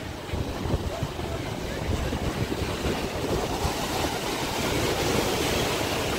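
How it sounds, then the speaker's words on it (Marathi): A sofa ride boat skims the sea at Nagaon beach near Alibag, with loud, continuous rushing wind and water spray over a low engine roar that builds slightly toward the end. "सो ही सोफा राईड आहे, तुम्हाला दाखवतो कशी असते."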